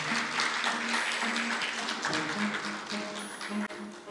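An audience at a Dongguk University entrance ceremony gives sustained applause, a dense, steady wash of many hands clapping together throughout.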